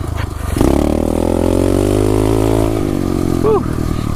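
A 2016 SSR 125 pit bike engine revs hard and holds a high, buzzing pitch for several seconds during wheelies, close and loud, then drops off near the end.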